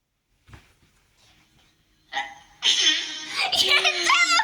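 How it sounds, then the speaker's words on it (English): A person with hiccups gives a couple of short, abrupt hiccups, followed by loud, high-pitched vocal sounds that may be laughter or squealing, close to the microphone. "You still have hiccups."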